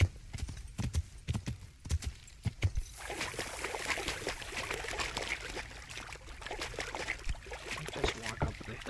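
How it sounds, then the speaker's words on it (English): Horse hooves clip-clop in a steady walking rhythm in a video game, first as distinct knocks and then blended into a louder rushing, wind-like ambience, with no speech. "the horses in this game are really special."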